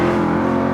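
A Jaguar F-Type sports car engine runs loud and close in a steady, sustained rumble, holding a rich, even tone for under a second with no voices.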